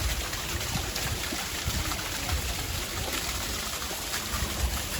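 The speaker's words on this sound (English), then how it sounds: "And over here's a little waterfall." Small waterfall among palm trees and purple flowers in a garden, giving a steady, even splash and trickle of falling water that stays close and constant without a break.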